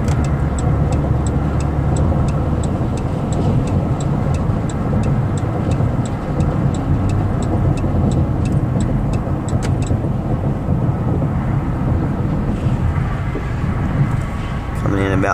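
A 2015 Dodge Caravan wheelchair-accessible minivan rolls down a highway exit ramp, steady road and engine rumble heard from inside with a faint repeating tick, while someone talks over it.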